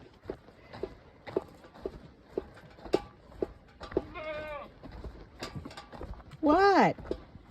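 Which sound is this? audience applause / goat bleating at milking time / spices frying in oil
goat bleating at milking time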